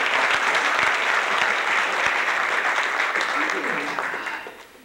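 Dense applause from a magic show audience rolls on steadily, then tapers off over the final second as a voice begins to emerge.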